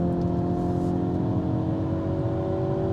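A 2023 Hyundai Kona N engine drones steadily under throttle, heard from inside the cabin, with an even tone and no clear break for a gear change.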